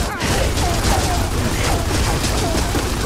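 Rapid gunfire from a video game team fight runs dense and continuous throughout, with close bursts layered over a steady loud din and no clear pauses.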